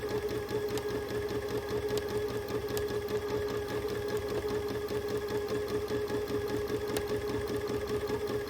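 A sewing machine runs steadily, its rapid rhythmic stitching clatter continuous and close, with no talking.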